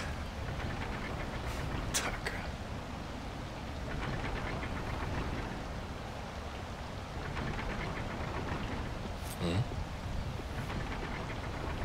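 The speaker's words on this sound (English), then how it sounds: "Another victim of this endless rain." Steady, endless rain falling in the video game Wild Hearts, a constant broad hiss and patter that fills the whole stretch at even loudness, with a couple of brief sharper sounds breaking through.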